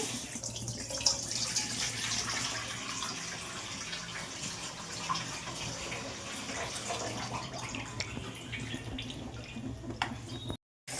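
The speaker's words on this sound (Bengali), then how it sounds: "দুধ দুধটা আমি ছেঁকে নিচ্ছি" Milk is strained for dudh puli, a steady close rushing and trickling of liquid pouring that runs on without a break almost to the end, with no voices.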